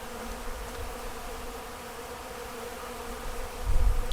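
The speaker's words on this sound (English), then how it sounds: "So they're buzzing around pretty good." Honeybees swarm around a hive in a steady, dense outdoor buzz that holds throughout, with a low rumble of wind or handling rising near the end.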